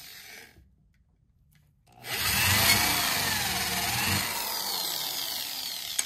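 After a brief near-silence, a power drill kicks in and grinds steadily through material drilling a hole in a wheel, a loud continuous whirring with rough texture until the end.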